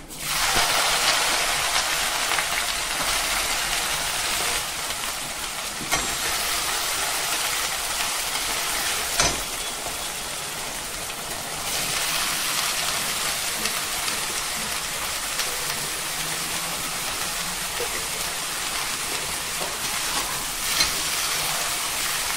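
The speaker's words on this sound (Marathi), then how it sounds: "मोठ्या फ्लेमवरती ना आपण व्यवस्थित परतून घेऊया कांद्याला" Chopped onion frying in hot oil with mustard seeds, cumin and curry leaves over a high flame, a steady loud hiss and sizzle lasting throughout with a few brief crackles.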